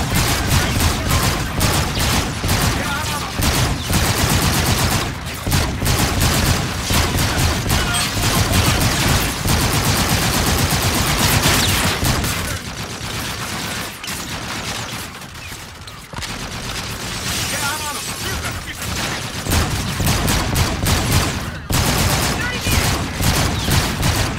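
Sustained automatic gunfire in Call of Duty: Infinite Warfare, dense rapid bursts that keep up nearly throughout, loud and close, dipping briefly mid-way before resuming.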